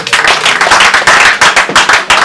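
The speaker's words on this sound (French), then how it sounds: "On peut acclamer très fort le Seigneur." Church congregation clapping loudly in acclamation of the Lord, a dense, rhythmic burst of many hands close by, steady and energetic throughout with no voices.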